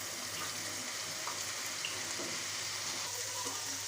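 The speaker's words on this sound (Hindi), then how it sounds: "प्याज हमारा फ्राई होना शुरू हो गया, बस इसको हम थोड़ा सा और फ्राई करेंगे।" Onions frying in a pot make a steady, even, hissing sizzle that runs unbroken and fairly quietly throughout, with no talking.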